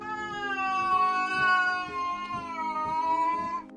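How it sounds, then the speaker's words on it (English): A domestic cat lets out a long, drawn-out yowl, one continuous wavering cry close by that holds for several seconds before cutting off, with no other sounds. "The sixth sound is the yowl."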